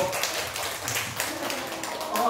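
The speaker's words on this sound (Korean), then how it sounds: "다시 한번 뜨거운 박수로." A church congregation at a Sunday service claps in a brief, fairly quiet patter of scattered hand claps.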